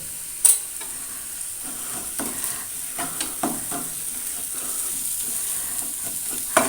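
Turmeric, chilli and coriander powders sautéing in a pan, a soft steady sizzle under scattered scraping stirs and a few sharper clinks from the spoon, close up and without talk.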